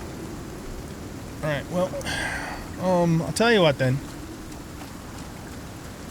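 Steady rain hiss in the survival game Icarus falls across the whole stretch, a constant wash beneath a short burst of talk in the middle.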